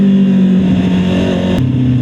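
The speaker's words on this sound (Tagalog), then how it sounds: "4-cylinder sa daan. Grabe. Napakapino ng tunog." Four-cylinder motorcycle engine revving loudly and close on a road, a smooth steady drone that shifts pitch briefly near the end, with no talk.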